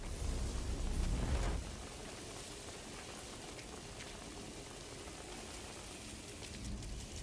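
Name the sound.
indoor sprinklers sounding like rain, from a video game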